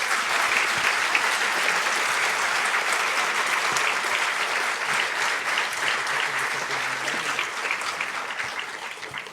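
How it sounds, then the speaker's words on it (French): A crowd at a 2025 New Year's civic ceremony applauds a champion who set a military world record. Dense, steady clapping fills the whole stretch, loud and close, easing slightly toward the end. "Cela mérite un minimum de vos applaudissements."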